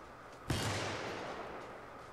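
A single sharp gunshot cracks out in the co-op shooter Helldivers, followed by a short, noisy rumbling tail that fades slowly, heard alone without talking.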